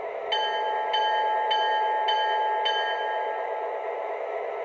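A model SD40 locomotive's bell rings in five evenly spaced, clear metallic strikes about half a second apart, each leaving a sustained ringing tone over a low steady hum.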